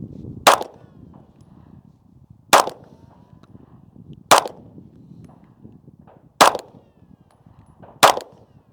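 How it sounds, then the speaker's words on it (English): Pistol shots at an indoor range from a compact Glock 19 or full-size Beretta 92, fired slowly: five sharp, loud reports spaced about two seconds apart, each cracking out over quiet background rustle. "15 slow, well-placed shots, and we'll go ahead and see if we can get a smaller grouping"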